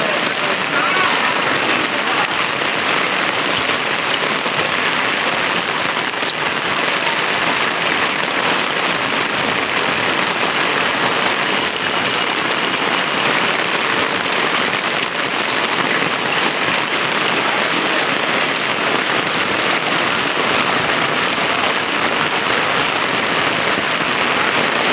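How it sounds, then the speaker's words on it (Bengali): Heavy rain falls across a city with strong wind, a dense unbroken roar of drops drumming on surfaces that holds steady and loud for the whole stretch. "ভালো বৃষ্টি হচ্ছে এবং সাথে বাতাস আছে"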